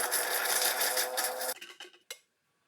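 An electric spice grinder whirring loudly as it pulverises whole spices to powder, a steady high whine that cuts off, followed by a few short pulsed bursts before silence.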